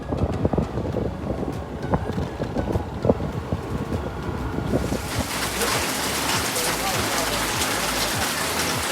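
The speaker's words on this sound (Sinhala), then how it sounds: "දැන් වහිනවා යන්න අමාරුයි." Heavy rain pours down steadily and close, building into a dense, continuous hiss in the second half, with scattered drips and patters earlier on.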